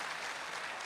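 Applause from an audience at a Hindi poetry recital, a dense, even wash of many hands clapping steadily for under a second with no voices over it.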